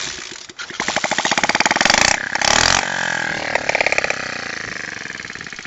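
A motorcycle engine, a first bike for a ten-year-old, fires up and runs with a rapid, sputtering single-cylinder pulse, revving briefly before settling into a fast, loud idle close by, with some talking in the background.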